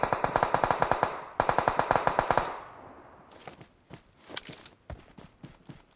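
Automatic gunfire in the PUBG Mobile video game on the Livik map: two loud rapid bursts of evenly spaced shots, followed by scattered softer shots and footstep-like thuds.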